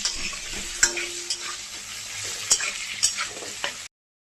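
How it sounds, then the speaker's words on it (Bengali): Potato pieces fry in hot oil with salt and turmeric while being stirred, a close sizzle broken by several sharp scraping clinks of the spatula against the pan, ending abruptly. "এখন ভালো করে নাড়িয়ে আলুটাকে ভেজে নেব।"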